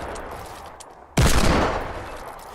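Fortnite gameplay gunfire: after quiet game ambience, a sudden loud burst of rapid shots hits and rings out, then slowly tails off.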